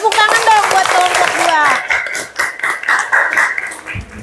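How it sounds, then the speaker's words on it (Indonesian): Classroom applause for a student group, with children's voices and a loud shout up front before scattered, close claps break out and continue unevenly under chatter. "Tepuk tangan dong buat kelompok"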